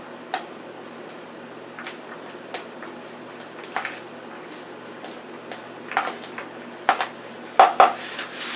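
Casserole ingredients with kosher salt are stirred in a bowl, giving sparse clinks and taps of utensil against dish that grow more frequent and louder toward the end, over a quiet background.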